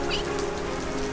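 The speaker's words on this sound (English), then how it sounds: "Dare I declare, we're in for a downpour." Cartoon rain pours down as a steady, even hiss of drops on surfaces, with a faint bird chirp near the start and no voices.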